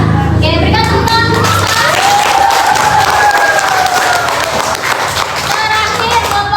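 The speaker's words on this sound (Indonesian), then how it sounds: "Oke, berikan tepuk tangan." Audience in a training or workshop session applauds steadily for several seconds, a dense crowd clapping with a few voices and cheers mixed in throughout.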